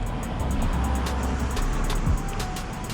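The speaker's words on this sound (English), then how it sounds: "Drove my Mustang GT up here from LA" A Ford Mustang GT with a 6-speed manual cruises along a scenic coastal road, its engine a steady, loud, continuous drone with road roar throughout and no gear changes standing out.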